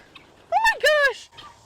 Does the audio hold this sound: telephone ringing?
no